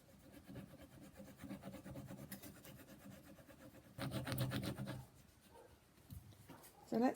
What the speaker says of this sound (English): then apparently with this tool you just scrape it off.